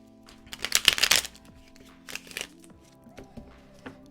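A deck of playing cards is shuffled, with a loud riffling burst and then several shorter, quieter shuffles and taps close by.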